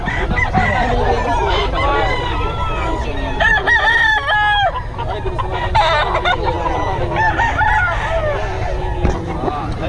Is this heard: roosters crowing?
yes